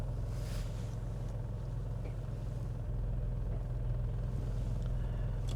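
Car engine idling and rumbling at low speed while pulling into a parking spot at a Middlesbrough driving test centre, a steady close interior drone with little else heard.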